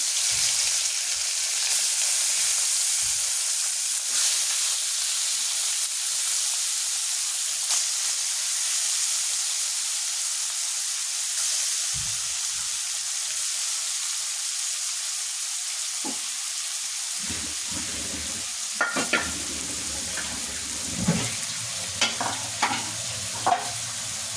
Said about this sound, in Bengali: আমি মাছগুলা প্রথমে ভেজে নিতেছি